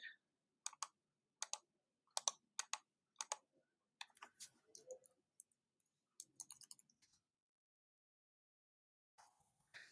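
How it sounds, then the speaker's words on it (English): Sharp computer mouse clicks in quick separate bursts, close and crisp against near silence, with a few softer taps and scattered clicks trailing off afterward. "I will actually click on this to rename it"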